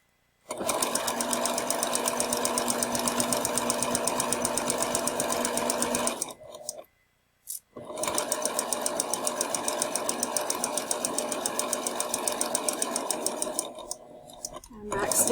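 A sewing machine runs a 3/8 inch seam in two long, steady bursts of rapid, even stitching, close and loud, separated by a brief pause, with soft whispered talk alongside.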